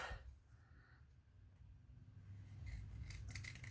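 Long scissors snip through clear acetate with a few faint crisp cuts, followed by light clicking and rustling handling noises close by in a quiet room.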